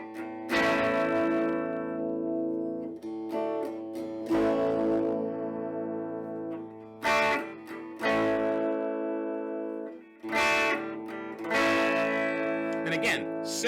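A Gretsch Streamliner G2655 electric guitar plays sustained chords and notes, ringing out and decaying before each new strum, with the tone knob swept from bass to treble; the sound is close and clear.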